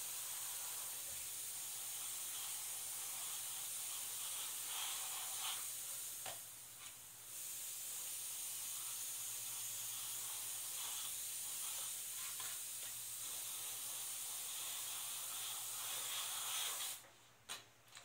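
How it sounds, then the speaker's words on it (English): An airbrush sprays paint onto the bases of Warhammer 40K miniatures in a faint, continuous airy hiss that runs steadily, pauses briefly, then resumes before stopping near the end. "that finishes all I do with the airbrush on the bases"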